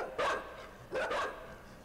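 Dogs in the video game Inside give two separate bark-like bursts, each sharp and close, with a short gap between them and a faint background hum.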